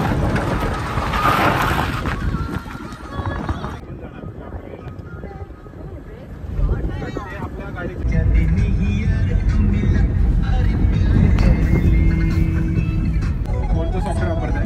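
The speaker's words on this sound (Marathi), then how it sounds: "आणि मामा बघा आता कशी गाडी चालवणार आहे" A car driven along a rough, rutted village road rumbles with a deep, rising engine and road drone, buffeted by wind noise; voices talk over the first part before the low roar grows louder and steadier.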